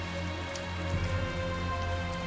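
Rain falls steadily in the video game Tales of Zestiria, a soft, even patter on surfaces over a low ambient hum, with no voices.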